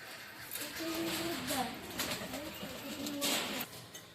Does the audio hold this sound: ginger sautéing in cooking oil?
no